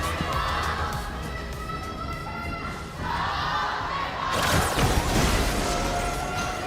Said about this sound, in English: Here now, we can hear the rumble by the crowd. They're cheering now.